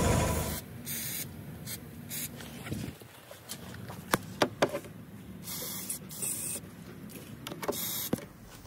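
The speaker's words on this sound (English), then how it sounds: "put some WD-40 on those rusty ass bolts and take them out." WD-40 sprayed onto rusty rear bolts of an old Chevy truck: several short hissing spray bursts separated by gaps, with a few sharp clicks and knocks close by.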